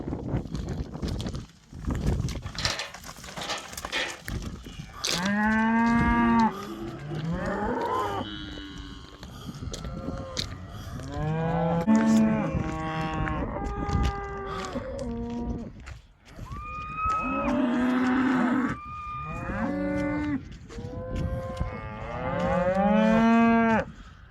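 Cattle, including a large white bull, mooing repeatedly as a farmer feeds them on a farm along the Pennine Way near Hadrian's Wall; several loud, drawn-out calls come close by, with some hoof clopping between them.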